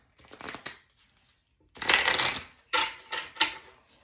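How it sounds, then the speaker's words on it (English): Close-up riffling of bent playing cards in a few quick bursts, the stiff cards flapping and snapping as they are shuffled, with short pauses between. "Let me shuffle them the other way because they're bent so bad."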